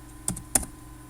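Two quick keystrokes clack on a computer keyboard, close and crisp, in an otherwise quiet room.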